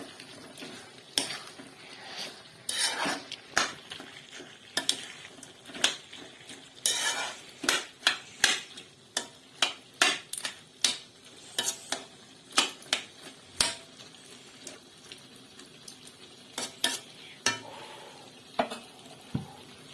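Duck curry sizzles in a pan on high flame while a metal spoon scrapes and knocks against it again and again, loud and close, with no talking.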